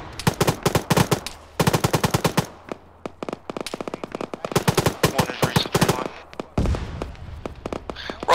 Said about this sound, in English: Taking fire from the northeast on the high hill.